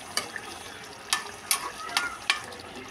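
A pan of coconut milk stew with tuna bubbling at a low simmer, with a handful of soft pops and spoon stirs scattered over a quiet background.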